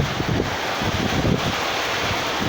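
Strong storm wind sweeping over a floating raft house in the rain, a constant roaring rush with heavy low buffeting against the microphone and no voices.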